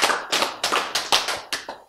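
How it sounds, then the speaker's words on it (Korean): An audience claps in a few sharp bursts, short rhythmic rounds of hand claps at a lecture, close and fairly loud with no talking over them. "박수."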